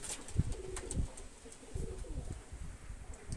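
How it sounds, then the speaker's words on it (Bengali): A pair of young Oman Teddy pigeons coo softly with low, rolling calls, a few separate bursts close by in an otherwise quiet setting. "আর এক পেয়ার কবুতর দেখাচ্ছি, ওমান টেডি বেবি"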